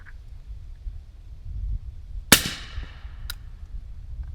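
A single sharp report from a GSL Bushman Series .30 caliber rifle firing 220 grain Callaway ballistic subsonic ammunition, one crisp crack with a short fading tail, followed by a faint click after, in quiet outdoor surroundings.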